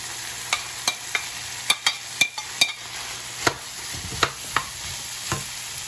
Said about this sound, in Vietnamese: Khi mình xào mình thấy cái nấm nó hơi vừa chín thì mình sẽ cho ớt đỏ và ớt xanh vào.